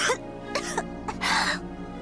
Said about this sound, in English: She coughed over and over